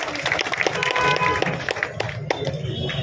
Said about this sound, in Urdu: تالیاں بجائیں آپ لوگ۔